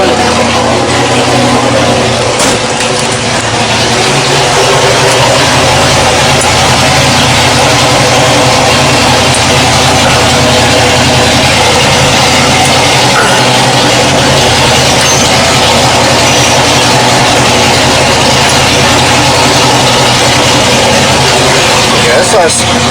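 A Dentside Ford shop truck engine idles steadily with a continuous low rumble that stays loud and close for the whole stretch, with no talking over it.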